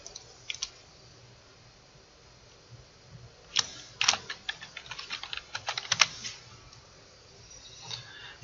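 Typing on a computer keyboard while entering data into an Excel spreadsheet: a few scattered taps early, then a dense run of quick, close key clicks with short pauses between bursts.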